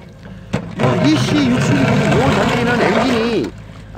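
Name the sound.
excavator Kubota engine running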